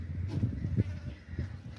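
Goat bleats from a hefty two-tooth sacrificial billy goat with a dewlap, thick-set and broad-chested, heard close up amid farmyard murmur in short repeated low calls.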